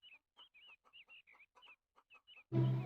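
Cartoon chickens cluck in a quick series of short, bright calls at moderate distance. A sudden loud burst of another sound cuts in at the end.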